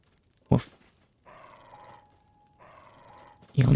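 A dog in the video game Zelda: Tears of the Kingdom gives two short, loud barks, one near the start and one at the end, separated by quieter sustained tones.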